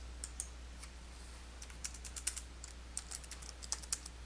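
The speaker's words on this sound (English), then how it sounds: "Then type the text to display into the adjacent fields." Text being typed on a computer keyboard, a series of quiet, irregular key clicks in short bursts with pauses, close by and alone over a low steady hum.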